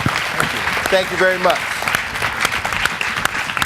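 An audience at a conversation event with a poet claps in sustained, dense applause for several seconds while someone speaks briefly over it.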